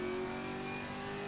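A Chevrolet GT4 race car engine in Assetto Corsa Competizione screams at high revs, a sustained, piercing, steady engine tone close up with no one talking.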